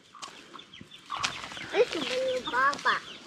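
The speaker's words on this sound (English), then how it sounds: "Chicken." A pet hen clucks and chirps in a series of short, close calls, with rustling and handling noise mixed in.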